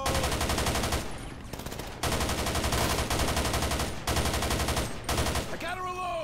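A Humvee-mounted .50 cal M2 Browning machine gun in GTA 5 hammering out long, loud automatic bursts with brief gaps, close up, a voice briefly heard near the end.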